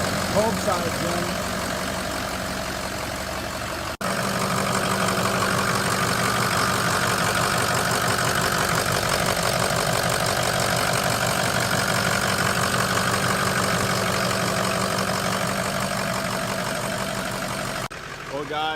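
A turbocharged truck engine runs steadily at idle, a loud continuous mechanical drone with a slightly knocking texture, briefly cut near the start and again at the end.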